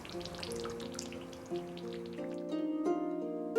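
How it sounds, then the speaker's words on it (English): Soy sauce moromi fermenting in brewery vats gives off faint, scattered pops and drips, heard softly beneath sustained background music that grows more prominent toward the end. "You can hear a faint popping sound."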